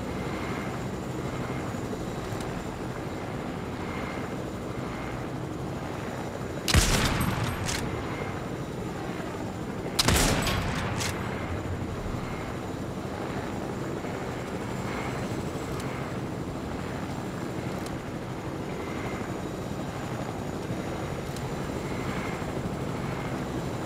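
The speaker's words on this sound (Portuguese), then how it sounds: "quando me deixam no sniper pra derrubar um helicóptero" In a video game, a helicopter's rotor and engine drone steadily throughout while two sharp, loud sniper rifle shots crack out several seconds apart.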